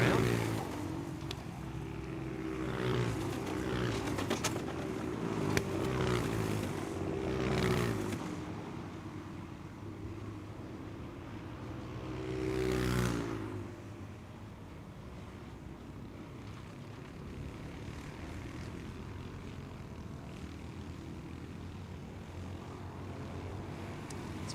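Senior 168-class racing karts droning past on a circuit at a championship meeting, engine noise rising and falling as karts pass, with a louder pass near the middle, under steady commentary.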